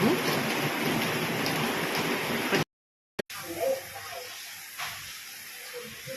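Dense, steady hiss of heavy rain pouring down in Chaiyaphum, Thailand, briefly cutting out to silence midway before the downpour resumes, slightly thinner afterward.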